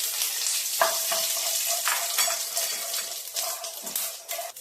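Cloves, a small piece of cinnamon and cardamom seeds frying in hot oil for a chicken curry, giving a loud, steady sizzle with occasional spatula scrapes and knocks against the pan.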